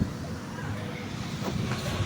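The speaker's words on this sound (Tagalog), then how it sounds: "Wala, lakas ang hangin o." Strong wind buffets the microphone in a continuous rushing roar, loud and gusty throughout.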